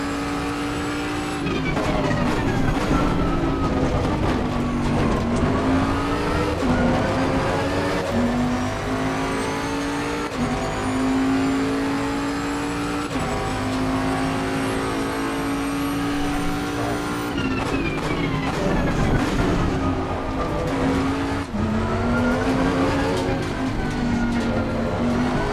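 A Bentley GT3 race car lapping Imola in the sim racing game Assetto Corsa Competizione, its engine droning steadily and rising and falling through gear changes, loud and close throughout.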